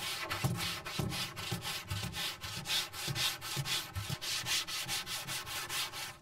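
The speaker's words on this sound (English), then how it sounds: "So we'll keep sanding and see what we get there." Steady back-and-forth scraping of a sanding block on a car body panel, rhythmic rubbing strokes repeating about twice a second, close and continuous.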